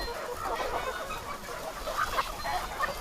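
Farm chickens clucking in a flock, a dense, moderately loud murmur of overlapping clucks and soft calls without pause, close by.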